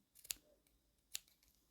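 Scissors snip crochet yarn ends close to the tabletop, two quiet, sharp cuts about a second apart against near silence.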